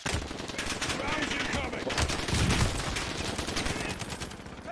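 Dense, rapid automatic gunfire in the Call of Duty Warzone video game, loud and continuous with overlapping bursts that barely pause.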